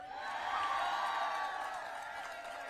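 Crowd applauds and cheers at a Pennsylvania campaign rally for Vice President Harris: a steady, loud wash of clapping and shouting that holds throughout, easing slightly toward the end.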